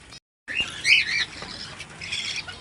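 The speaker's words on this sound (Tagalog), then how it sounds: "Eh narinig nyo yung mga sisiw." Baby bird chicks in a home aviary cheep and squawk in high, shrill bursts after a brief moment of silence, several calls overlapping close by.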